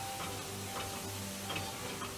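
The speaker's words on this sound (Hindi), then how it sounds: "अब वो कढ़ाई में जा रहा है।" Marinated chicken frying in a kadhai for handi chicken: a soft, steady sizzle with light crackles and faint ticking pops, fairly quiet and without talk.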